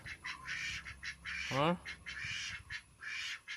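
Repeated broadband quacking calls from ducks sitting inside their shelter, in short bursts, fairly near, with a brief squawk partway through and some low background noise.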